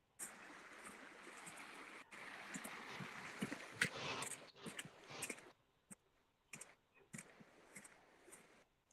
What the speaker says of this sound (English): you got the water rushing down here